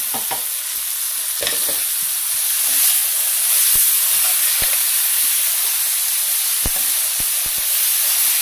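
Rice and noodles frying in a pan give off a steady, close sizzle with a bright hiss, and sharp crackles and stirring clicks pop out now and then.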